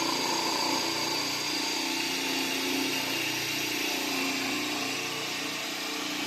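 A test motor with four sideways-mounted NS magnets in its rotor runs at steady speed, a constant loud whirring hum with high whine and no breaks, nobody talking.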